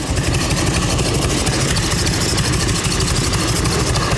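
A 1989 Harley-Davidson Ultra Classic bagger with carburetor issues idles nearby, its engine raised to about 1,200 rpm. A loud, steady, low throbbing rumble carries on evenly throughout.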